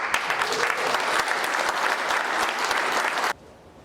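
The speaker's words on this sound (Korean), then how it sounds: "큰 박수로 환영해 주십시오" A forum audience in the National Assembly Constitutional Memorial Hall applauds to welcome a speaker. The clapping is dense and continuous and stops abruptly near the end.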